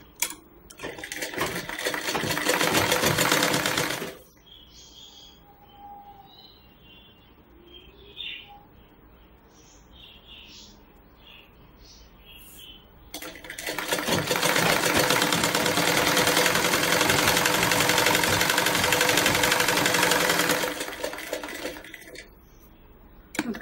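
A sewing machine stitches a blouse in two long fast runs, close and loud, separated by a quiet pause filled with small handling clicks and faint bird chirps.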